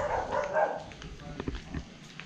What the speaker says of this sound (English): you can tell we're here at Brian's because the dogs are barking.